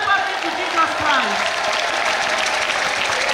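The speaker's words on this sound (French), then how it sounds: "Acclamation à Jésus-Christ." Applause from a church conference audience acclaiming Jesus Christ, a dense steady wash of clapping filling the room, with a voice speaking over the start.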